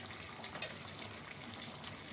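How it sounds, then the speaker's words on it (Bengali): Water poured into a pot of mutton curry with potatoes, a soft continuous splashing trickle lasting a couple of seconds, fairly faint and close, with no voices. "এবার একটু আমি জল দেবো"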